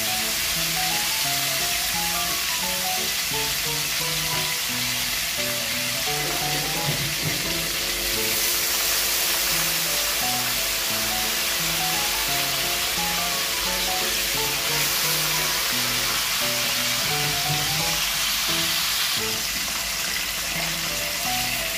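Salmon steak frying in a pan, a loud, steady hiss of sizzling oil running unbroken, with music playing underneath throughout.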